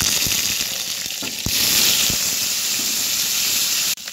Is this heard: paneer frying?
yes